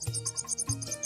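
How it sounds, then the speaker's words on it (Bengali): Crickets chirp in a village in high, pulsing bursts, close and clear, with a low tonal call from another creature sounding twice beneath them. "এটার ভিতরে কি ঝিঝি পোকা অনেকটা ডাকতেছে, এবং সব জায়গায় ডাকতেছে"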